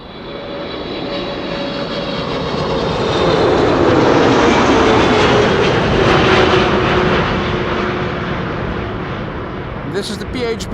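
A ten-year-old Boeing 777-300 jet, registration PH-BVO, arriving at Amsterdam Schiphol on a long-haul flight, roars steadily and loudly as it passes, swelling in the middle and easing toward the end.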